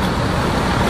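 Bus pulling out of a terminal on an ANS departure to Ranah Minang, a steady low engine rumble and road noise alone for about a second.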